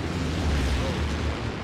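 An explosion in the World War II tactical shooter game Hell Let Loose, a heavy low rumbling roar that stays loud and steady for well over a second with no clear break.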